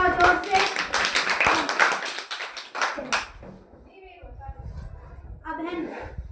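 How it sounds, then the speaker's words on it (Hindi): Several children clap hands loudly together during a classroom soft-and-hard activity, a dense burst of claps for about three seconds that then stops, followed by quieter shuffling and a teacher's voice speaking. "ताली बजाओ जोर से।"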